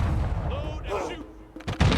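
Army unit volleying in the strategy game Humankind: a couple of close, booming shot bursts at the start and end, with rumbling low-end texture and faint game tones between them.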